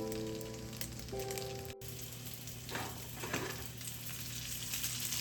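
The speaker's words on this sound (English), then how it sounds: "Pan fry again until nice and crispy." Pierogi pan-frying until crispy give off a steady, close sizzle that runs throughout, with a tonal hum in the first seconds and a brief dropout partway through.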